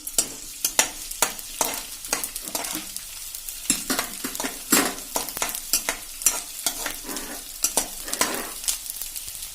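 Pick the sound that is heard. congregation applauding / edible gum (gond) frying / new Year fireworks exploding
edible gum (gond) frying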